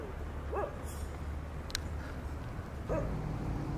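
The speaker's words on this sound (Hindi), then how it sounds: "वो काला वाला देख रहे हो उधर भौंक रहा देख के" A black dog barks outdoors, giving two short, somewhat distant yaps a couple of seconds apart over steady background noise.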